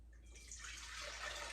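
Warm water being poured into a stand mixer bowl, a steady broadband pour that builds after a brief quiet start and runs continuously, close and alone.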